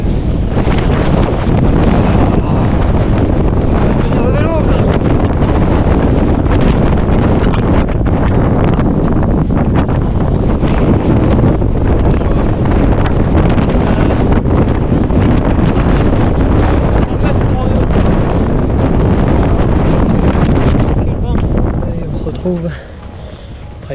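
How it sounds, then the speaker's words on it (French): Strong wind roars across the microphone on the Col d'Agnès in the Pyrenees during a bike crossing, a constant loud buffeting rumble that barely lets up, with a voice faintly present beneath it. "Il y a trop de vent quoi. Vent de barjo."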